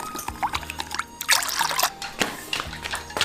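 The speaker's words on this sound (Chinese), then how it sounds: "好，再来点清水。" Clear water trickles and splashes in short pours into a bowl of sauce mixed from dark and light soy sauce, sugar, salt and sesame oil, close and fairly loud, a few brief streams in quick succession.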